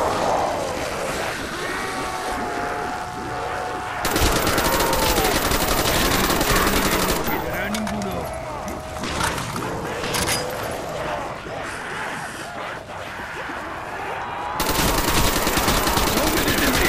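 Dense, continuous gunfire from Call of Duty Black Ops zombies on Kino der Toten, rapid bursts of machine-gun fire that surge and ease, with an in-game voice speaking over the shooting at times.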